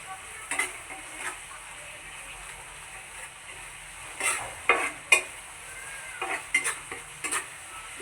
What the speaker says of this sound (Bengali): সুন্দর মতো করে এটা এখন নাড়তে হবে যেন মশলাটা